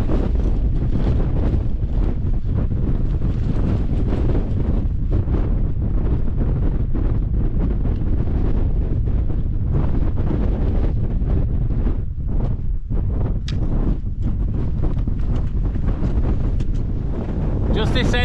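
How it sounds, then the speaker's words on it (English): Strong, gusty wind buffets the microphone during a rocky winter descent from the summit of Fairfield in the Lake District, a loud, continuous roar that barely lets up throughout. "it is windy, so just having to take extra care"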